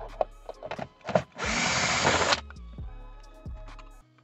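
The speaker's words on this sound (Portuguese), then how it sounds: "Então vou soltar esse parafuso." Power screwdriver loosening a screw inside the cabin of a 2014 Fiat Grand Siena Attractive 1.4, a steady whirring burst of about a second amid scattered clicks, knocks and handling noises close by.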